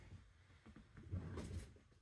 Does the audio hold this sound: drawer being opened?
yes